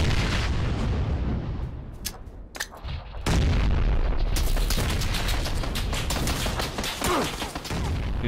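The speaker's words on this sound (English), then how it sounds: "You're shooting at us from behind." Gunfire rattles through a firefight in the PUBG video game on Xbox One X, loud rapid shots and bursts cracking close by, briefly thinning before a sustained barrage of repeated reports resumes.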